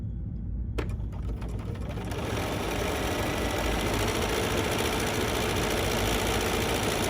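An embroidery sewing machine starts up and stitches a curve, a rapid continuous mechanical whir and needle chatter, close and steady after a brief quiet start.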